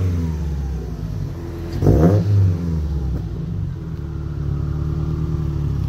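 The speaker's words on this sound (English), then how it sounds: "Rev it up a little." A 2019 Subaru STI idling with a deep, steady exhaust rumble close by, then a single quick rev that rises and falls around the two-second mark before settling back to a steady idle.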